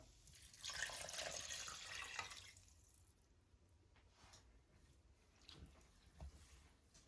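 Two cups of water pour into a cooking pot in a steady splashing stream for a couple of seconds, then stop, followed by faint drips and small clinks.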